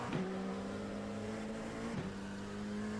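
An LMP2 prototype race car engine in the iRacing simulator at Summit Point holds a steady, buzzing tone, with quick gear changes that drop the pitch near the start and again about two seconds in.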